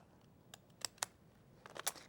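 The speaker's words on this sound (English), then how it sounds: "So to make this, we're going to cut apart one of our seed packages. And you're just going to go down the sides with decorative edge scissors." Decorative edge scissors snip down the side of a paper seed packet in a few sharp, close cuts, two near one second and a quicker cluster toward the end, over quiet room tone.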